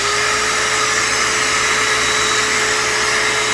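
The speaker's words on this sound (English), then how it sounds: "We'll turn our vacuum cleaner on." A vacuum cleaner drawing air through an outboard motor carburetor cutaway whirs loudly and continuously with a steady high-pitched motor whine and no change in pitch.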